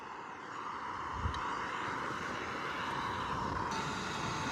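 Wind gusting across a wild camping spot, a steady, broad rushing roar that holds nearly constant throughout, with no voices.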